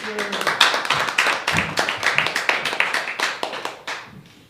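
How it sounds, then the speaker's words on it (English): An open-mic audience claps in a sparse, uneven patter of individual hands, fairly close and loud, tapering off toward the end with a brief voice at the start. "Another round of applause for Jen."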